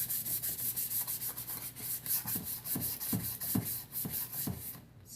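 Sandpaper rubbing across guitar wood in rhythmic back-and-forth strokes, a steady close scratchy swish repeating roughly twice a second before stopping abruptly near the end.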